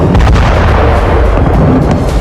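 Bombardment in the Russia-Ukraine war: loud, dense rumbling booms of shelling and explosions filling the whole span with no gaps.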